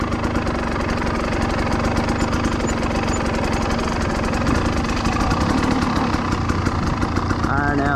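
A 2020 Husqvarna TE300i enduro motorcycle engine runs nearby with a steady, rough, loud drone and no clear revving. A voice briefly speaks over it.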